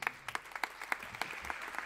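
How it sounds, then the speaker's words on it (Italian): Applause from an audience at the Triennale di Milano during the Panettone d'Oro 2020 civic virtue award ceremony, with sparse, distinct claps at a steady pace from a modest crowd, moderately distant. "Un applauso."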